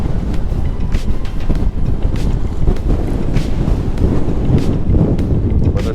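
Brutal wind gusts batter the microphone on a boat on Lake Sakakawea while walleye fishing, a loud continuous buffeting roar with irregular bursts throughout.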